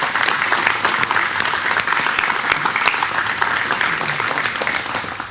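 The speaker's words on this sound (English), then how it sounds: "Can we please give a round of applause for Vincenzo?" A large audience gives a sustained round of applause at a ceremony honoring rescue responders, dense steady clapping filling the room from start to finish.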